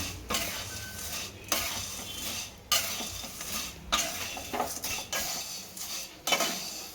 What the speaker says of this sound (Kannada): ಇದನ್ನ ಸ್ವಲ್ಪ ಫ್ರೈ ಮಾಡ್ಕೊಳ್ಳೋಣ